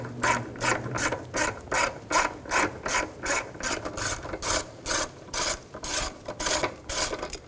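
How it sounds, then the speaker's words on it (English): A hand ratchet with a 10mm socket clicks steadily in quick repeated strokes, loosening airbox bolts on a 2013-2017 Honda Accord 2.4L, close and clear with no talking. "Using a 10mm socket, we're going to remove the bolts out of the airbox."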